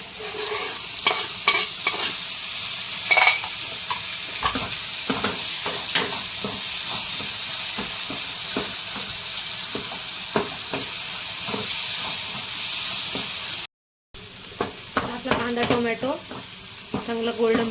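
Tomatoes fry in a pan for prawn masala with a steady sizzling hiss, broken by frequent scraping stir strokes and brief clicks. A short silent gap falls near the end, and the sizzle and stirring then resume.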